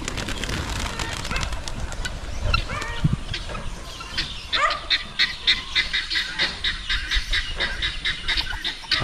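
Guinea fowl chasing a flock of pigeons outdoors, harsh repeated honking calls mixed with bird noise and flapping, busy and fairly close throughout.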